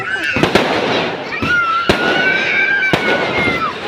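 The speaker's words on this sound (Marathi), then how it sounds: "खूप छान आतिषबाजी केली तर बघा फटाके किती छान" Fireworks and firecrackers go off at a Shiv Jayanti celebration: loud, sharp bangs and crackling bursts at irregular intervals, with people talking and cheering nearby.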